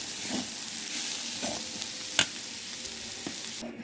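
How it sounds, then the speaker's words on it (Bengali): Cauliflower frying in a pan, a steady close sizzle with occasional scraping stirs and one sharp clack of a utensil. "তারপর কিছুক্ষণ টাইম ধরে ফুলকপিটাকে ভেজে নেব।"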